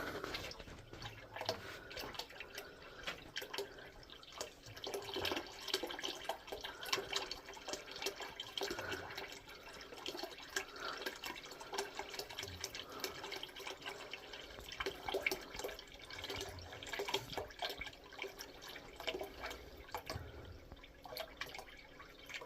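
Water runs from a tap into a household tank, a faint continuous trickle with scattered drips and splashes throughout, steady and alone with no voices.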